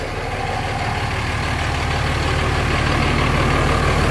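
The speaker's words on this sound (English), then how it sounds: "engine noise, obviously sounds like any diesel" A 2008 Ford F-350 dually diesel truck with a swapped Cummins common-rail engine rumbles steadily nearby, a deep continuous exhaust drone that grows slightly louder over a few seconds, with no talking.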